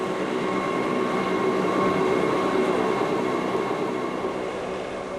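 Jungfrau railway train climbing through the Swiss Alps from Interlaken toward Europe's highest station at 3,454 m, giving a steady, loud rumble of rolling wheels and carriage noise that holds evenly throughout with no voices.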